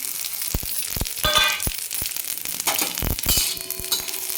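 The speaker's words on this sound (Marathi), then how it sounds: "ते इकडं लोखंडी तव्यामध्ये हे सगळे आपण मसाले टाकून देऊ" Whole spices and coconut roasting dry in an iron tava for a sukka mutton masala, a soft crackle broken by repeated sharp scraping and clinking of a spatula against the pan, close up with no talking.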